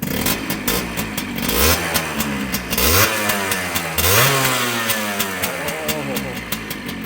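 A motorcycle fitted with a 1990s-style single side exhaust pipe revs up and down nearby, its loud engine rising and falling in pitch over several throttle blips while someone talks over it.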